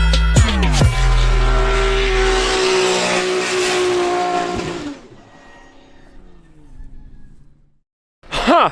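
A loud car engine revs up and holds a roaring, throaty exhaust note, then drops away and idles down before another burst of revving.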